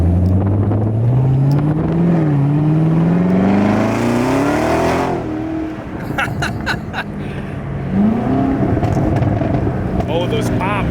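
A Corvette C7 ZR1 with a supercharged LT5 V8 putting out over 720 wheel horsepower revs hard at a cars-and-coffee meet. The engine climbs loudly, then crackles with sharp exhaust pops, with people talking over parts of it.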